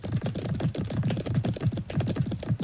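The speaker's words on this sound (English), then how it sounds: "Keyboard sounds?" Rapid, steady keyboard typing with crisp clicky keystrokes over continuous background music, close and fairly loud.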